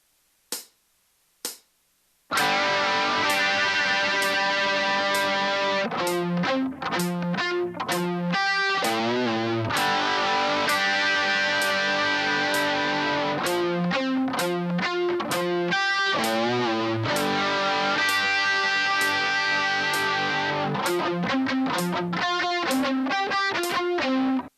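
Distorted electric guitar plays a phrase at a slow tempo: two short muted picks, then loud sustained power chords broken by choppy staccato stabs and palm-muted bursts in a steady halting rhythm.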